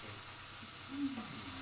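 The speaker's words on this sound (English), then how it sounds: "The ramen is cooking. The egg noodles are cooking." Ramen egg noodles cooking and being stirred in a pan, heard as a steady, close hiss of sizzling with a soft scrape of stirring partway through.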